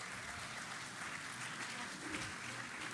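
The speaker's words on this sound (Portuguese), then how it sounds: "palmas para eles, glória a Deus." A church congregation applauds in a steady, dense wash of clapping that fills the whole stretch at an even level, with no voice rising above it.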